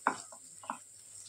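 Cooked dal with turmeric is stirred in a pot, a spoon scraping twice through the thick mixture in quick soft strokes over a faint background hiss.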